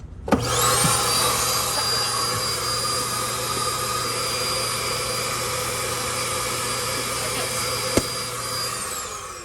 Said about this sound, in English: You do have the central vac in here, but you have this kick plate.